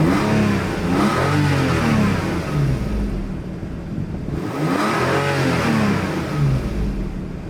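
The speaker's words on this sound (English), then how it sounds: "what I wanted you to pay attention to is how smooth and how even the engine works" A Nissan HR34 Skyline GT engine runs steadily and evenly, rising and falling in smooth revs twice, loud and close with no stumbles.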